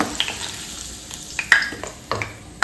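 Potatoes fry in hot oil, a steady soft sizzle broken by sharp clinks and scrapes of a utensil stirring the pan.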